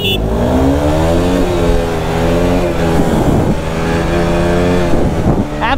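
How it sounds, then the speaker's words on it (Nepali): Several motorbikes rev hard during a drag race on a road, engines rising and falling in pitch as they accelerate close by, with no talk over the roar. "तिनवटा बाइक ड्र्याग हानौँ चारवटा बाइक"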